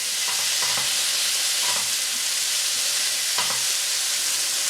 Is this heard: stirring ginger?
yes